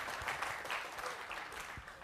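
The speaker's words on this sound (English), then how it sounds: "Small round of applause, please." A lecture hall audience gives a small round of applause, a soft, fairly distant patter of claps that stays even and light for a couple of seconds.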